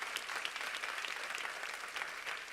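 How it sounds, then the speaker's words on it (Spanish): A church congregation applauds the Lord, a fairly faint, steady patter of clapping from a crowd lasting a couple of seconds. "Le das un aplauso al Señor."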